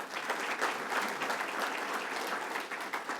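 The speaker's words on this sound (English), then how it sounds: "Let's give them a round of applause." Audience applause at a ceremony honouring a Chicago alderman's children, a steady wash of clapping from a crowd, moderately faint and even across the whole stretch.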